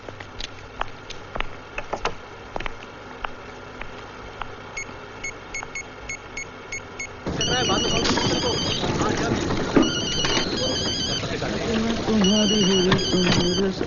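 A telephone rings in a Hindi action film scene: a repeated electronic ring pulses steadily through the first half, then louder voices and background sound take over.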